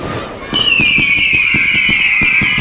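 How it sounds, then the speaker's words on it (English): A loud, sustained high-pitched screaming whistle from screaming UFO fireworks at a Liverpool display, gliding slowly downward, over a steady train of rapid crackling pops. "This is then screaming UFOs."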